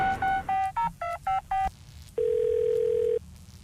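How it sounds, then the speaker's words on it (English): Someone dials out on a telephone: a quick series of short touch-tone beeps, then a longer steady tone, clear and close. "he's going to make another phone call"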